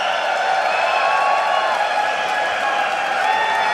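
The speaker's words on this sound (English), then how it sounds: "And the crowd having an applause for you, VandeR, here" An arena audience at a 2014 EU LCS League of Legends esports match keeps up a loud, steady roar of applause and cheering with scattered whoops, continuous throughout.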